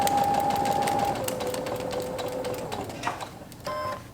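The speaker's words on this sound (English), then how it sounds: "my presser foot is automatically lifted up so that I can pivot this and keep sewing" A sewing machine stitches fabric triangles, its needle whirring at a steady, close pace, slowing, then pausing as the automatic pivot lifts the presser foot, before a short burst of stitching resumes.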